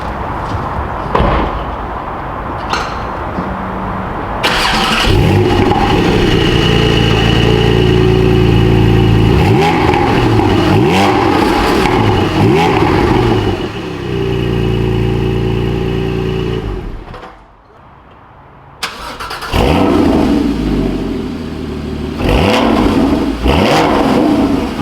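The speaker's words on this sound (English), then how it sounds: "let's go ahead and start up both of these vehicles and let you guys decide which one sounds" A Porsche 718 Cayman GT4 and its predecessor starting up and revving, loud close engine bursts rising and falling repeatedly, with a brief near-silent gap before another engine fires and revs again.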